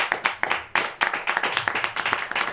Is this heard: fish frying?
no